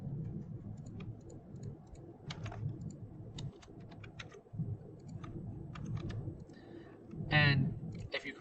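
MATLAB code is typed on a computer keyboard as quiet, close clicks in short irregular runs over a steady low hum, with a brief louder sound near the end.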